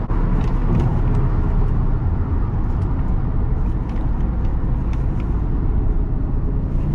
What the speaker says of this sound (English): I'm gonna do a hard brake just to see how it feels.